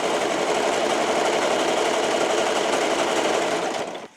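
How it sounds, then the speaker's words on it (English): A serger stitching the seams of work pants runs in one continuous fast buzzing whir at close range for about four seconds, then winds down and stops. "I am going to sew or serge these damn pants."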